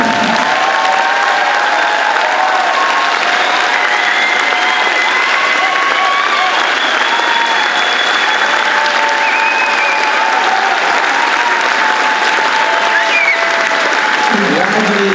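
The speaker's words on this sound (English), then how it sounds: "All right, now you can clap if you want." Audience applause at an eighth grade celebration, sustained crowd clapping with some cheering while a voice talks over a public address system through much of it.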